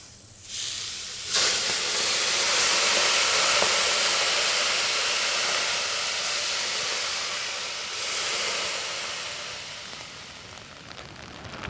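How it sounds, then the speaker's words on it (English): Water poured onto hot rocks on top of a wood-fired sauna stove sets off a sudden, loud, broad steam hiss that holds for many seconds, then fades a little and surges again, with no talk. "the rocks on top, we could pour some water and get some steam"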